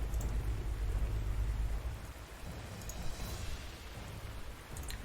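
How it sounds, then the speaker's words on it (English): Steady rain from the Panzer Corps 2 wartime strategy game, a continuous hiss with a rumbling low wash that eases after the first couple of seconds, alone with no voices. "Oh, now it rains."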